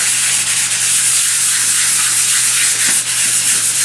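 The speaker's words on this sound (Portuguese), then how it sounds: "só pegar uma lixa e vir aqui em movimentos circulares e dar uma desgastada" Sandpaper rubbed in circles across an embossed craft box, a loud close continuous hissing scrape with slight rhythmic swells from the circular strokes, no talking.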